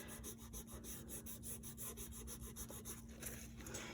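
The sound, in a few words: rubbing away cold wax paint on a painting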